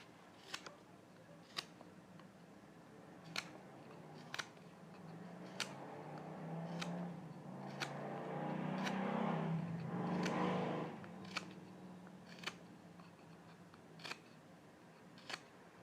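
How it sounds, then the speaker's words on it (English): A knife trimming and pointing the end of a wooden bow drill spindle outdoors, with sharp, sparse clicks and scrapes spread out over a low, steady background hum and a swelling rumble mid-way, no talk. "And we'll trim up the other end now"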